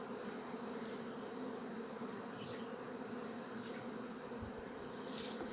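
Honey bees buzzing in an open hive with a queen excluder and brood, a dense, steady close drone that holds without pause and swells slightly near the end, no talk.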